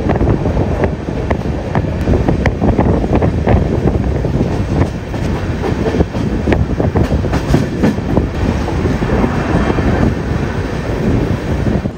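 The Sangamitra Superfast Express rumbles along slowly, heard from inside with a loud continuous roar, rattling carriage noise and irregular clacks over the rails, plus some wind buffeting, with no talk.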